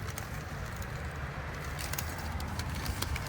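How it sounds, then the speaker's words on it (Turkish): Pigeons in a busy spot in Copenhagen give soft, low cooing calls, faint and close, set against a quiet outdoor hum with occasional light clicks and rustles. "Allah kuşlar geldi. Ne kadar çok güvercin var burada."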